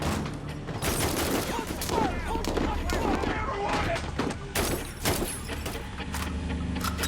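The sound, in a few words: gunfire, man shooting at police in a film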